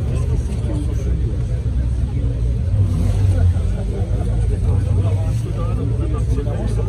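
A vintage Bugatti Type 35 engine runs loud and close in a crowded square, with a steady rumbling drone and a swell in the middle as it revs, while people chatter around it.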